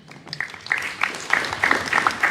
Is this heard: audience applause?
yes